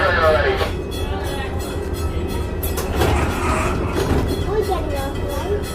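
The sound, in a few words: riding on a train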